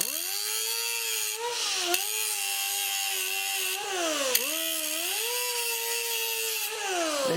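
A hedge trimmer runs in a steady, close motor whine, its pitch sagging and rising a few times as the blade teeth shift position, with a couple of sharp clicks between bursts.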